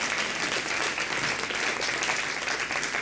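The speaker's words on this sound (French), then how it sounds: "On peut l'applaudir" An audience at a café debate on women's leadership gives brief, full applause, a dense and even patter of many hands clapping throughout.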